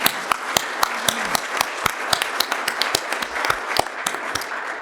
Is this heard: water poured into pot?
no